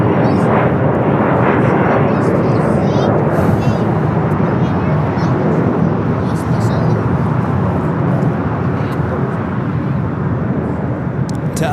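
Jet engines roar steadily as a Boeing 747, the Queen, takes off at LAX, a loud, continuous broadband thunder lasting throughout, with voices talking over it.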